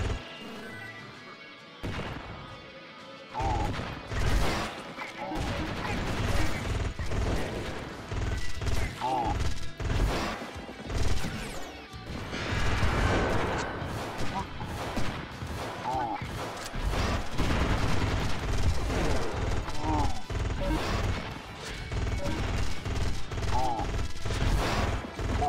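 Burst gun fire in the twin-stick shooter game Odinfall, as a dense, continuous barrage of loud repeated shots and impacts that runs for the whole stretch.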